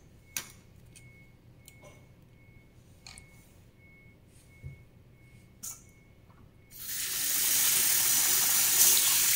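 A few faint ticks and clinks of a pan being handled, then a kitchen tap opens and water runs steadily and loudly into the pan, rinsing and filling it to soak.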